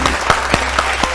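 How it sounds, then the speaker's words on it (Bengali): Loud audience applause at a family quiz game show, a dense burst of clapping from a crowd heard close and alone for a brief moment. "জোরে হাততালি।"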